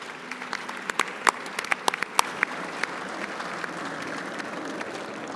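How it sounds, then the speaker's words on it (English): Audience applause for panelists at a sea service capabilities discussion, a moderate crowd clapping steadily with several loud, crisp individual claps standing out near the front early on. "A round of applause for our panelists here."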